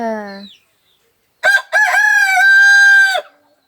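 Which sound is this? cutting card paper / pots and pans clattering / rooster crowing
rooster crowing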